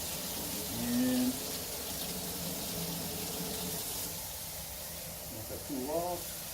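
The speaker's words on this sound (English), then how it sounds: "So we're going to go ahead and throw some cold water in here." Cold water pours from a tap into a pot for testing an Aicok induction cooktop, a steady hiss of running water in a kitchen, with a voice talking intermittently over it.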